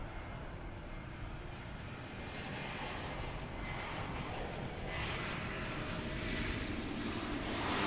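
Spirit Airlines Airbus A320 jet arriving at DFW airport at night, a broad steady roar that swells slightly as it nears, heard from a distance and fairly faint.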